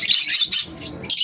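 Lutino lovebirds in a cage give bright, rapid chirps and squawks in close bursts, with short gaps between calls.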